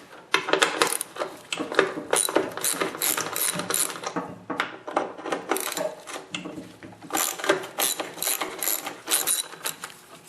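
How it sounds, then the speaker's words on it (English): Ratchet wrench loosening 2 1/2-inch bolts from a flange on a Craftsman snowblower during a drive ring repair: dense, steady rapid clicking bursts, close and fairly loud, with a brief pause midway and no talk. "Now I'm going to remove this flange over here by removing the 2 1/2-inch bolts."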